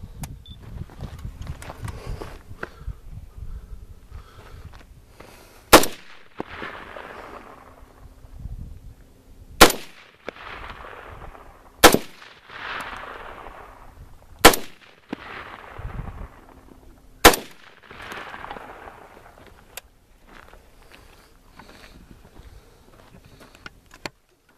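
Gunshots fired at fire extinguisher targets ring out outdoors, about six sharp, loud reports spaced a few seconds apart, each followed by a short echoing decay, with low rustling between shots.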